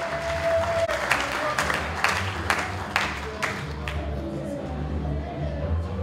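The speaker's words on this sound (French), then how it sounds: "Acclamons très fort le roi de gloire" A church congregation claps and cheers together in praise, a steady wash of applause with sharp individual claps standing out across several seconds, voices mixed into the crowd noise.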